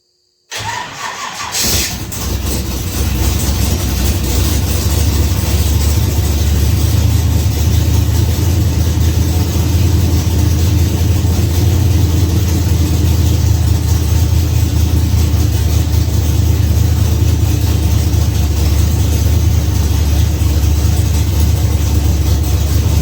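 A high-compression small-block Chevy V8 cranks and fires after a moment of silence, then settles into a loud, steady idle with a deep, continuous rumble.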